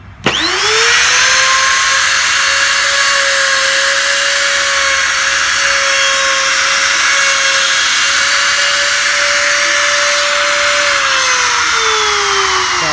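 A wood router whirs loudly and steadily while cutting a lock hole in a sliding door, its pitch holding level before spinning down near the end.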